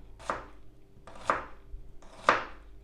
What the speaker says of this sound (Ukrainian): Тепер нарізаємо цибульку.